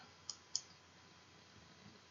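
A single mouse click lands on the Solve button in Excel, then a second one shortly after. Both are crisp and close against a quiet room, with no voices.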